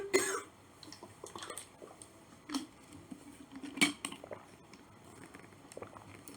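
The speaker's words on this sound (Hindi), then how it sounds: "सॉरी थोड़ी खांसी ज़्यादा आ रही है" A lecturer in an online exam-prep class coughs several times, short, dry bursts spread across a quiet room, faint and close, with soft clicks and rustles between them.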